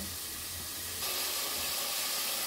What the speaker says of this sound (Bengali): পেঁয়াজটাকে প্রথমে হচ্ছে আমি একটু সটে করে নিচ্ছি